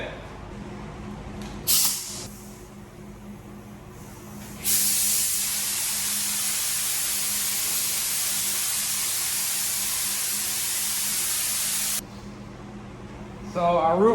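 A spray gun sprays 2K primer onto a 1967 Nova inside a homemade cross-draft spray booth, a steady loud hiss lasting about seven seconds after a brief earlier burst, with a shorter burst at the end.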